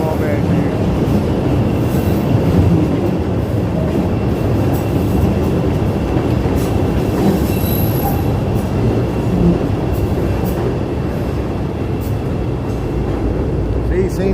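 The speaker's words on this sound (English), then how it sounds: "So here's the pink line rounding the bend here." A short Chicago L Pink Line train rounds a bend on the elevated Loop tracks toward Wabash, its loud, continuous rumble and rattling wheels filling the street nearby, with faint metallic squeals over the top.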